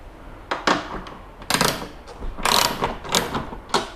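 A 10 mm ratchet loosens the tail light nuts on a Mitsubishi Evo X, giving close, quick clicking bursts with some metallic rattles in between, with no talk over it.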